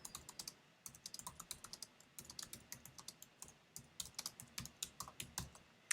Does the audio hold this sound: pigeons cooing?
no